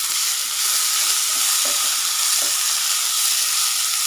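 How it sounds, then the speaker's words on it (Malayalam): Tomatoes sautéing in a pan for a soya chunk roast, giving a steady close sizzle with soft stirring scrapes and no voices. "തക്കാളിയും കൂടി ചേർത്ത് കൊടുത്തതിന് ശേഷം ഒന്ന് നന്നായിട്ടൊന്ന് വഴറ്റി കൊടുക്കാം"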